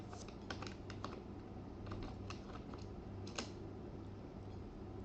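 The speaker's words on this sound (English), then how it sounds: "I'm going to type here CMD net sh, hit enter and type here interface." Commands are typed on a computer keyboard for Windows network settings, producing quiet, irregular clusters of key taps separated by brief pauses over a soft background hum.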